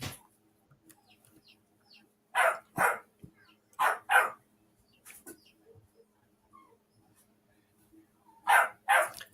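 A dog barks in sharp, separate bursts, mostly in pairs, with quiet gaps between and a few faint yips. A room voice is heard faintly in the background.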